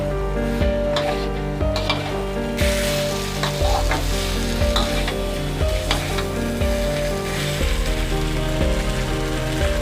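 Potatoes cook in a pan with spices, giving off a constant, busy sizzle, with occasional scrapes and clinks of stirring, close and moderately loud, with no voice.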